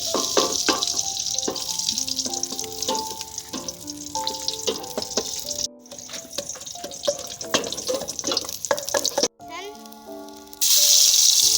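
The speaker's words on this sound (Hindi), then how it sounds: "हमने 4 गिलास पानी डाला है।" Water pours and splashes into a cooking pot already holding ghee, a sizzling, gushing stream that runs for several seconds under light kitchen sounds and voice.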